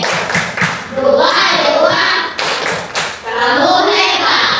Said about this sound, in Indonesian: sekarang kita beri tepuk jempol